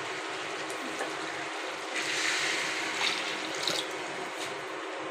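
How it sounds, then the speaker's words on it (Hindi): Water pours steadily into a pot of half a kilogram of beef keema, about half a litre, a soft continuous splashing hiss with slight surges, fairly faint and free of talk. "हम इसमें हाफ़ लीटर पानी ही डालेंगे"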